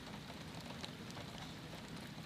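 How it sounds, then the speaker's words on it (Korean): Steady heavy rain pouring down at night during a Buddhist pilgrimage, a dense continuous hiss with scattered drop patter, no voices. "결국 빗방울이 쏟아집니다."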